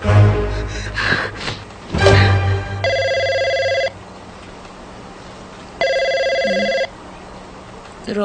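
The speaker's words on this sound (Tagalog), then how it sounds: "Telepono." A telephone rings in two long electronic bursts, each about a second, separated by a pause, loud and close, following brief gasping vocal sounds in an indoor comedy scene.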